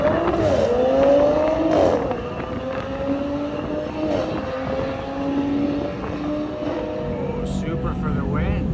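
An Audi RS5 and a Toyota Supra race on a Florida road, their engines droning and shifting in pitch as they rev and pass, heard steadily from moderate distance with a voice talking over them.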